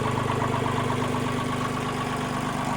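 A Mitsubishi MT-20 tractor engine runs at a steady idle, an even, close mechanical chugging with a low pulsing rhythm throughout.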